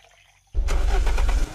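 A car engine in the video game Unturned cranks and catches after near silence, then runs loud and steady with a rumbling low drone before easing slightly at the end.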